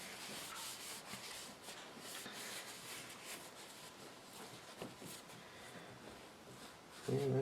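Excess finish wiped off the metal of a forged butcher knife with a cloth, making faint, continuous rubbing and soft swishing strokes close by, with a brief louder knock at the end.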